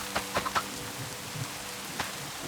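Rain falls steadily in Minecraft, a soft continuous patter with a few sharper drop taps near the start, quiet and unaccompanied by talk.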